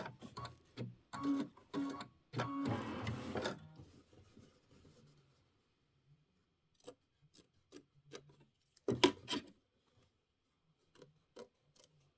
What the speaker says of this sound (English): I'm going to use my snips.